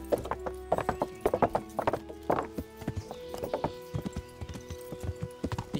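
Horse hooves clip-clop in steady, uneven beats in the medieval video game Kingdom Come: Deliverance, close and clear, with a faint neigh and some hum underneath.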